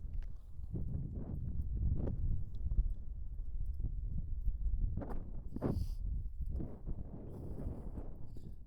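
A horse walks with soft, irregular hoof clops on a dirt surface during a riding exercise, fairly close, with light wind noise around it.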